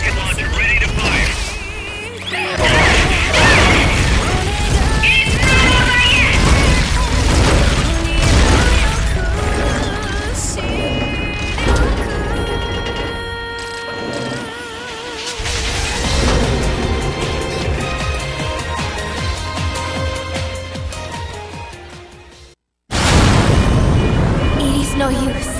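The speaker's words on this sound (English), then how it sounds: "Rocket launcher ready to fire." Rocket launcher fire and blasts in Metal Gear Solid: Peace Walker, with loud repeated booms, crashes and bursts piling into a dense, sustained barrage of game effects, a brief cut to silence, then another loud burst.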